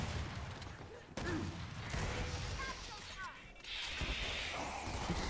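Gunfire in a Gears 5 ranked multiplayer match, with a few broadband shot bursts and mechanical game effects over a dense, steady background of battle noise; a voice talks intermittently throughout.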